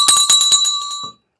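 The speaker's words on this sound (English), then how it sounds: "My hand is on the bell, and it's not leaving until after we have that sweet ding dong." A market closing bell rings in rapid repeated strikes for about a second, bright and loud with sustained metallic overtones, then stops abruptly.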